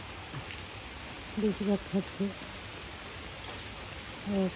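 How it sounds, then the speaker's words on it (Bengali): Constant heavy rain patters and hisses throughout during a storm in Brahmanbaria, Bangladesh, while a person speaks briefly over it. "বৃষ্টি যেন কবে শেষ হয় জানি না"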